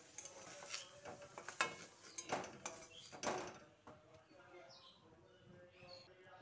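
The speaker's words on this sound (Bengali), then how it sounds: "এবার এই পটলগুলোকে একটা প্লেটে তুলে নিচ্ছি।" Steamed pointed gourds are lifted onto a plate with a run of soft clinks and scrapes of utensil against dish in the first few seconds, then it goes quiet with faint background noise.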